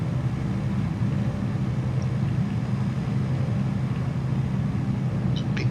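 A flight simulator aircraft engine runs at full throttle, producing a steady, loud, low drone that holds unchanged throughout with no talk.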